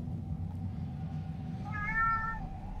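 A single drawn-out meow rises and falls near the end, close and fairly clear, over a low, steady background hum.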